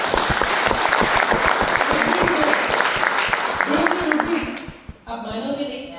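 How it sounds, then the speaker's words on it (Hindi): An indoor audience at a motivational speech event applauding loudly with dense, steady clapping that tapers off near the end as a speaker's voice resumes. "सर के लिए जोरदार तालियां।"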